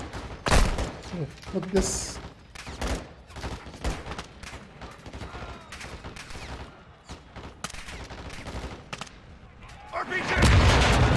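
Gunfire and explosions fill a firefight in the video game Call of Duty: Modern Warfare 2, with bursts of shots and heavy booms continuing under urgent shouted voices and ending in a loud blast.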